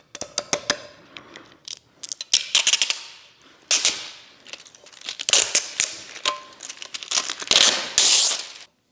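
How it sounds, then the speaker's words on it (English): Window tint film being peeled off the glass of a Mitsubishi Evo 8 under rebuild: irregular sharp crackles and tearing rasps, close and loud, in uneven bursts separated by short quiet gaps. "Should just be able to peel it off."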